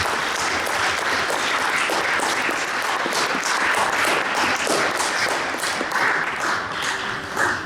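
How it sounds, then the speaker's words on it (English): A banquet audience at a sports award ceremony applauds an award winner, a loud, steady wash of many hands clapping that holds for the whole stretch with no voices on top. "please let's give Abby a round of applause"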